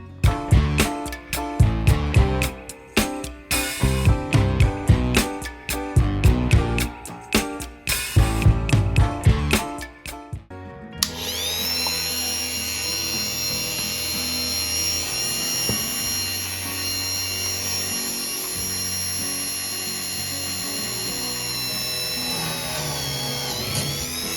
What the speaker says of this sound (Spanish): yo creo que con un taladro eléctrico nos ahorramos cantidad de trabajo.